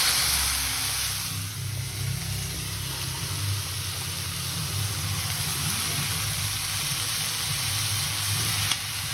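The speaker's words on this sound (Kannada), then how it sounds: "ಇವಾಗ ಈ ಟೊಮೆಟೊಗಳನ್ನ ಫ್ರೈ ಮಾಡ್ಕೋಬೇಕು." Chopped tomatoes frying in oil in a pan for a homemade butter egg gravy, a steady broad sizzle that holds evenly throughout at moderate level, with no talking.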